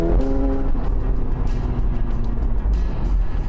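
The 4-liter twin-turbo V8 of a 2020 McLaren 720S Spider roars loudly and steadily up close, a dense, deep engine note that holds throughout with no talk.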